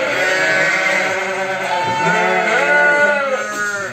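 Sheep and lambs bleat repeatedly on a farm, several overlapping wavering calls close by and loud, with a low murmur of farm activity underneath.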